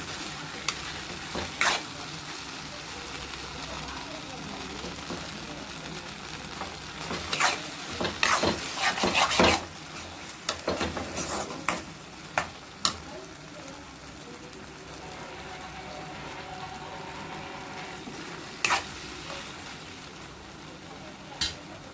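Tomatoes frying in a pan for a simple homemade curry, a steady broad sizzle with intermittent stirring scrapes and clatters that bunch up in the middle, moderately loud and close.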